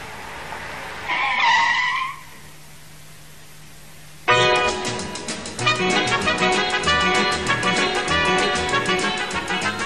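A Mercedes W108 sedan with four-wheel disc brakes braking hard, loud tire skid squeals followed by a sustained rough engine and road roar that continues at full level.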